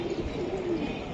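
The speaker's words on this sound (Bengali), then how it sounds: "মিডিয়াম সাইজের কবুতর ভাই, রেস করার জন্য পারফেক্ট।" A medium-sized racing pigeon gives low, throaty cooing that runs steadily throughout, close by and moderately quiet.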